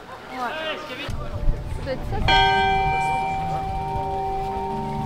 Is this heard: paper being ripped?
no